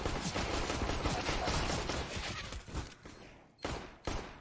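Many Glock pistols fire in CS:GO as a dense, continuous rattle of overlapping shots that thins out and ends in a few isolated loud cracks, with no talking over it.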